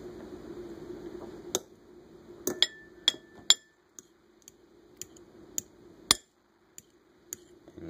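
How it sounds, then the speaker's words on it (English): A fork stirring eggs and milk in a bowl makes sparse, irregular clinks against the bowl, each a sharp ringing tap close by over near silence. "Kind of stir them up."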